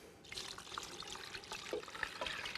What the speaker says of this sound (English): you want to cover it with water